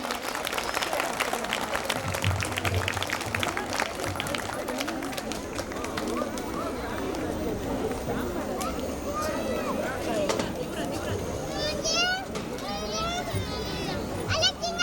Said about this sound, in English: we have expected a round of applause for all the 3 dignitaries present here